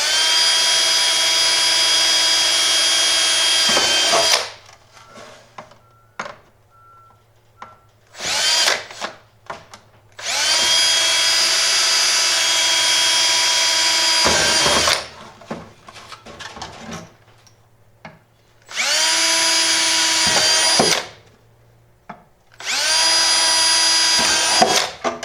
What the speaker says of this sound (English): Okay, now we'll drill all the way through.